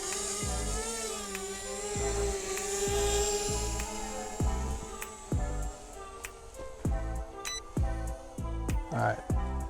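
A JJRC M02 VTOL drone lifts off with a loud high-pitched rotor whine that rises and wavers, while someone talks over it and choppy bursts mark throttle changes.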